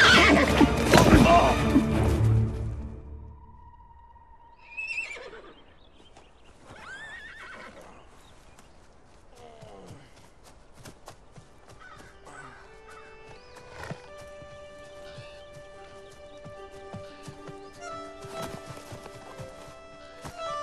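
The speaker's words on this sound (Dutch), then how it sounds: "Is dit uw paard?" A runaway horse lets out a loud whinny at the start, followed by scattered hoof clops, snorts and further neighs over a busy outdoor background, with faint voices in places.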